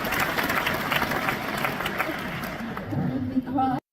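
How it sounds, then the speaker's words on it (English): An audience at an interview event in Bad Nauheim, Germany gives a sustained round of applause mixed with chatter, the clapping fading near the end as a voice comes in. "So that was a 30-second round of applause."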